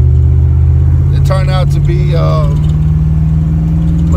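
A 1986 Monte Carlo SS V8 idles with a steady, loud low rumble after its exhaust leak was fixed, while someone talks briefly over the engine.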